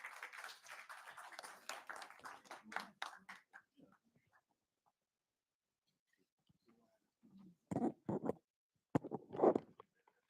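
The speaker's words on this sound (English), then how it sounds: "Let's give an applause to Dineo." A small audience at a youth summit claps, a brief scattered burst that fades into near silence, followed by a few louder isolated claps close by.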